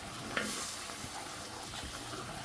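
Gravy with sirloin beef tips and mushrooms being stirred in a pan makes a quiet, soft bubbling and sizzle, with one brief utensil clink near the start.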